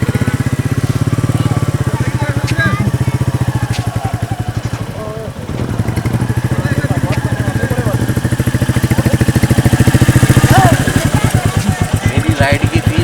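A motorcycle ride at Sambhar Lake, the salt lake in Rajasthan, with the engine running steadily and close by for the whole stretch, a rhythmic putter swelling and easing, while people talk over it.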